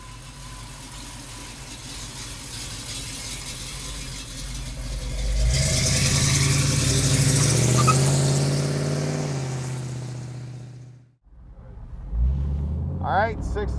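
A 1969 Chevrolet Camaro V8 idles with a steady low rumble, swells into a louder rev around the middle, then cuts off abruptly before a short restart burst.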